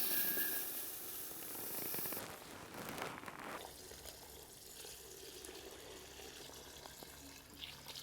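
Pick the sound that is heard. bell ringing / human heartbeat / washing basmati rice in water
washing basmati rice in water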